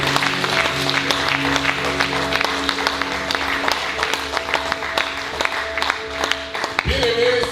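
Church congregation applauding Jesus during a Sunday service: steady, dense clapping with crowd noise and sustained music tones underneath, continuing throughout.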